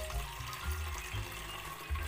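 Tap water pours steadily into a container while diluting a baking soda solution for treating fungus on orchid leaves, a constant close rush with low gurgling, no voices.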